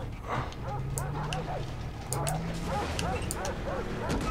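In the video game Far Cry 3, several dogs bark and yip in rapid, overlapping bursts nearby, loud against background game sounds, with some talking mixed in.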